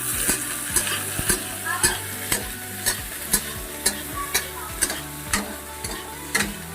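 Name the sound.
chillies and onion frying and stirred for kadhi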